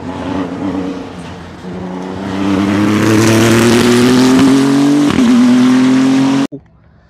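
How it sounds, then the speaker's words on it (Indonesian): A green toy race car makes a loud racing-engine sound that revs and climbs steadily in pitch over several seconds, then cuts off abruptly into quiet. "mobil balap warna hijau"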